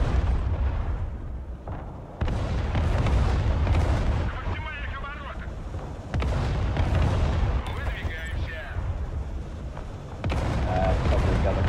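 Artillery fire in the video game Broken Arrow, loud booming blasts and rumbling explosions in bursts over a continuous battle din, with some voices underneath.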